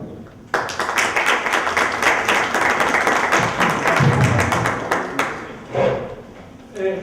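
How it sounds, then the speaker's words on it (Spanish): A seated audience at a workers' economy gathering breaks into sudden, dense clapping that carries for several seconds before tapering off into a few scattered claps and murmuring voices. "para quien pido un fuerte aplauso para oír su declaratoria de inauguración"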